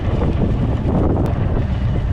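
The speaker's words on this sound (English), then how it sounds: "It's windy here, that's why I'm yelling at the bloody camera." Heavy wind buffeting the microphone, a constant low roaring rumble that fills the whole moment, loud and close.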